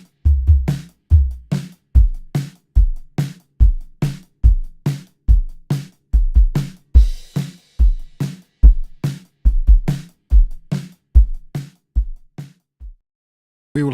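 A punchy drum loop run through a resonant filter, the kicks and hits sweeping with a ringing, whistling tone; a steady, regular rhythm throughout.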